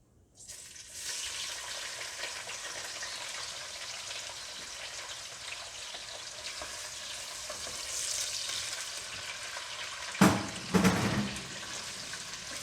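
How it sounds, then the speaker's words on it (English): Onions frying in a pan while cooking oxtail stew, a steady broadband sizzle from start to finish, close and fairly loud, with a couple of brief clattering knocks near the end. "Add the onions in."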